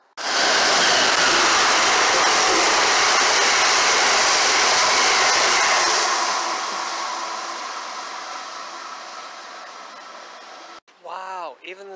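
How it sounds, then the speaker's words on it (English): An Amtrak Northeast Regional train rushes past at high speed on the electrified Northeast Corridor at a Rhode Island commuter station, a loud sustained roar that fades gradually before a brief burst of other sound at the end. "even the Northeast Regionals are so fast when they pass through here"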